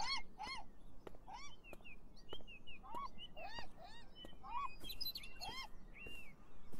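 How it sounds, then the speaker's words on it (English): Seagulls in the game Beyond Eyes calling repeatedly, a string of sharp, close squawks and yelps in irregular bursts over faint ambient background. "What the fuck is up with you seagulls?"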